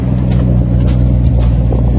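A Ford Maverick's 250 inline-six idles steadily through a borrowed truck muffler in a backyard, a loud, close, even rumble with no revving throughout.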